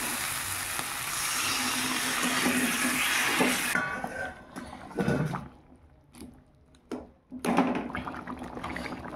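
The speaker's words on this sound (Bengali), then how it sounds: "এবার দিয়ে দেবে জল" Water goes into a hot pan of sautéed potatoes and peas cooking as aloo dum. A loud, dense hissing sizzle lasts nearly four seconds, then drops to quieter bubbling broken by a few sharp clunks and scrapes.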